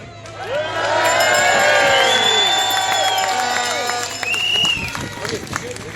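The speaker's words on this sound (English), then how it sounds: "Give them a cheer." An outdoor festival crowd cheers and whoops as a band takes the stage, a loud sustained roar that swells and holds for several seconds, with shouts and a whistle rising above it.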